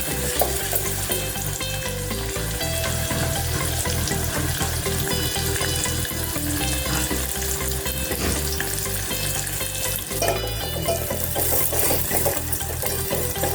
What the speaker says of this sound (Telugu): ఇది ఒక ఎర్రగడ్డ, అది ఎర్రగా వేసుకోండి.